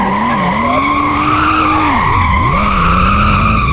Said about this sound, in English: I'm gonna try practicing drifting